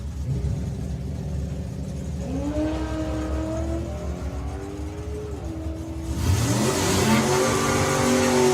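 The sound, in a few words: BMW car on a solo drag-strip run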